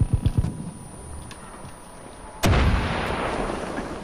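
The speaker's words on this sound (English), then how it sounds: "Oh, now they're shooting RPGs at me." An RPG rocket goes off in Far Cry 5, several sharp gunfire-like cracks at first, then a heavy, loud blast with a sustained rumbling roar trailing off.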